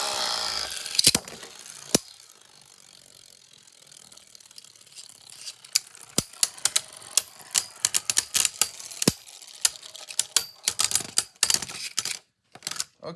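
Beyblade Burst spinning tops, Chain Kerbeus K8 against Perfect Phoenix, launched into a stadium and battling: sharp irregular plastic clacks and rattling hits, scattered and sparse at first, then growing dense and rapid toward the end.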